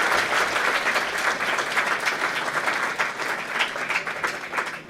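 Audience applause at a G20 meeting on women's empowerment, a loud, dense and sustained burst of clapping from a large crowd that tapers slightly toward the end.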